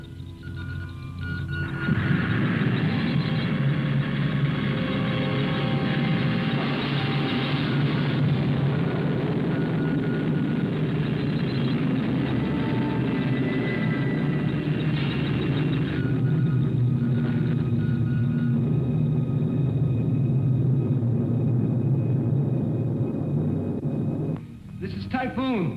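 Retro-rocket engines fire in a sci-fi film, a loud sustained roar and rumble that starts abruptly and holds steady for over twenty seconds, with voices faintly present beneath.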